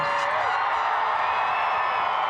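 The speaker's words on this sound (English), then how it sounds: "please give the class of 2025 one last round of applause" A large crowd at an outdoor high school graduation cheers, whoops and claps for the class of 2025 on the field, a continuous, loud wash of applause and shouting that holds steady throughout.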